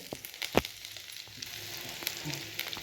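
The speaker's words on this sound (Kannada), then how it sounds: "ಮೆಣಸಿನ್ಕಾಯಿ ಸ್ವಲ್ಪ ಆಯಿಲ್ ಹಾಕಿ ಫ್ರೈ ಮಾಡ್ಕೋಬೇಕು ರೀ ಉಳ್ಳಾಗಡ್ಡಿ ರೀ ಮತ್ತು ಬೆಳ್ಳುಳ್ಳಿ ಕರಿಬೇವ" Chillies, onion, garlic and curry leaves frying in oil in a pan for chana dal chutney, a steady close sizzle with occasional crackles and a stirring scrape, no voices.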